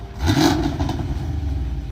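Cammed Camaro V8 revved to about 2,000 rpm with its active exhaust valves closed, a muffled rising engine note that swells early and then holds a steady, rumbling drone throughout.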